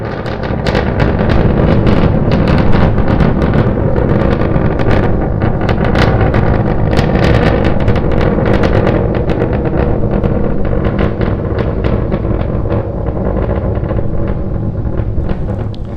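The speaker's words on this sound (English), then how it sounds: "We're continuing to climb on 2 engines." SpaceX Starship SN9 prototype climbing on two engines during its test flight toward 10 km altitude, a continuous broadband roar with wind-buffeted crackle, steady and loud throughout with no voices.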